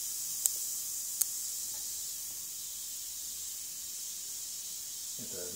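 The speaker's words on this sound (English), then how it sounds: "Hear the air escaping." Air hisses steadily out of the bleed valve of a hot water radiator, a continuous thin hiss close by with a couple of small clicks and no talking.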